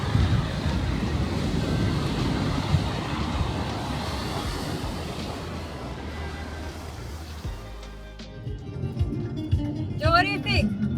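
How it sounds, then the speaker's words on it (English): Big ocean waves break on the shore in Beirut, a loud rolling roar buffeted by wind that fades out near the end, giving way to quieter sounds and brief bird-like chirps. "The waves are really big."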